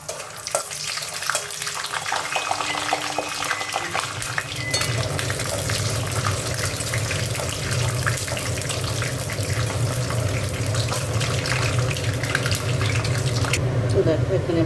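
Peanuts frying in hot oil in a pan while cooking a lal shak dish, a dense continuous sizzle that steps up in loudness partway through and keeps crackling steadily; a voice speaks over it.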